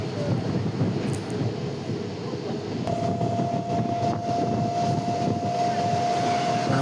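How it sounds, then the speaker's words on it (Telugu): A Vijayawada–Guntur passenger train passes near a station by Mangalagiri, its steady loud rumble and rattling wheels filling the scene, with a long horn-like tone entering partway and holding to the end. "మనకు ప్యాసింజర్ ట్రైన్ క్రాస్ అవుతుందండి."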